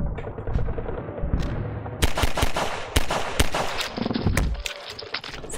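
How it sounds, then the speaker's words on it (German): Gunfire in the video game Half-Life 2: a few scattered shots, then several loud, sharp bursts ring out in quick succession, each cracking hard and then fading, with no talking over them. "Fünf Schüsse. Ja, das ist immer noch gleich."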